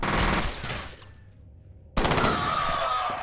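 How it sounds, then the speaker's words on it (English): Burst-fire weapon shots in the F.E.A.R. video game, loud sharp gunfire clusters, a rapid burst, a brief near-silent gap, then another dense burst continuing to the end. "it's a burst weapon essentially"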